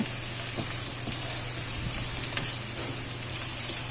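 Garlic, onion and ginger sizzling together in a hot pan for a salmon dish, a steady loud frying hiss with a few faint spoon scrapes, close up and with no talk.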